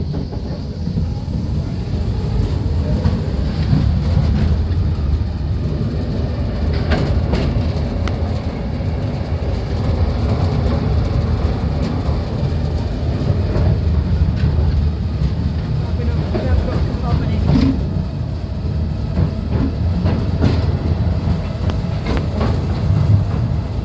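The small driverless Royal Mail Rail train rumbles through the narrow underground Post Office Railway tunnels in London, giving a continuous low roar with rattling wheel clatter and occasional squeals, and voices can be heard over the noise.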